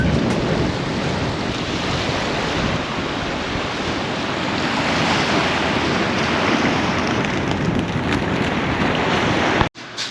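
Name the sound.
waves at the beach in Trapani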